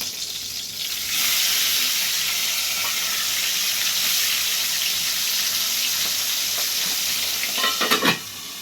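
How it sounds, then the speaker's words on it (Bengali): Pabda fish frying in oil in a pan, a loud, dense, continuous sizzle that starts after a quiet second and holds steady, with a few spoon or pan clatters near the end. "পাবদা মাছটা ভাজা হয়ে গেছে"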